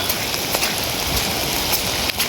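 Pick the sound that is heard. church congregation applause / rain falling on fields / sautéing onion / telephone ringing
rain falling on fields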